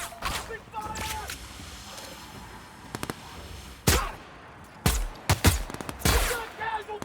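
Bursts of gunfire crack out in a sci-fi firefight in The Outer Worlds, several sharp shots and short volleys spaced over the span, with shouted voices in between.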